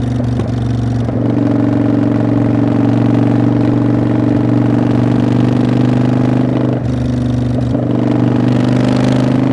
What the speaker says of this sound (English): You hear the backfires.